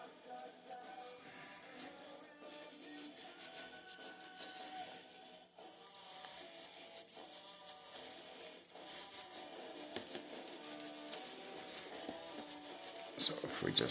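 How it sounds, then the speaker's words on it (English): Graphite powder rubbed by hand around an object to chrome it: a steady soft, dry rasping friction that continues throughout, close and moderately quiet, with a few louder scuffs near the end. "if we just continue to rub this right around the whole thing, we're hoping to have both ends of this chromed"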